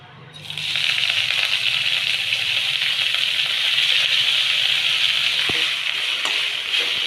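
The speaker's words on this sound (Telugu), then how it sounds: "కొంచెం ఆయిల్ పోసుకొని కొత్తిమీర ఫ్రై చేసుకోవాలి" Coriander leaves dropped into a pan with a little hot oil, bursting into a loud, steady sizzle that holds close and even throughout, with a faint clink partway; no voices.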